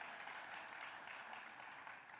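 Applause from the audience at a regional chamber of commerce live event, a steady, fairly faint patter of clapping that holds evenly for the full length, with no voices over it.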